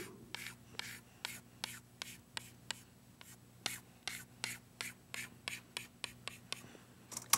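A marker or chalk colours in a triangle on a board with quick, regular back-and-forth strokes, about three per second, each a short scratchy rasp over a faint low hum.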